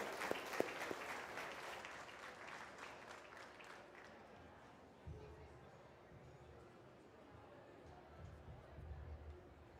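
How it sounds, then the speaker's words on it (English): Spectators applaud contestants at a market goat showmanship event at a state fair. Scattered clapping fades after a few seconds into a quieter murmur of crowd chatter, with faint talk underneath. "Let's give them all a round of applause"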